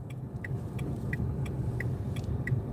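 A car creeps along slowly while pulling over to park on a tight street at night, a low steady engine rumble inside the cabin with faint regular ticking, like a turn signal, repeating about every third of a second.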